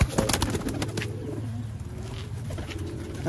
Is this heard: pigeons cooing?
yes